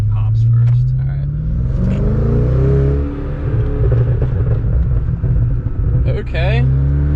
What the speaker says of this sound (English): I can give you guys a ride and I'll do some pops for you.